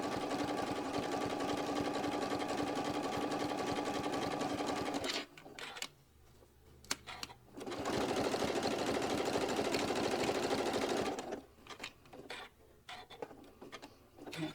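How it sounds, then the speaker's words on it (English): A sewing machine runs steadily as it stitches along the edge of a quilted binding piece, whirring loudly for about five seconds, pausing, then running again for another long stretch before stopping, with quiet handling noises in the gaps. "then go ahead and sew that edge"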